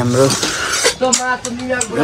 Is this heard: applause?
no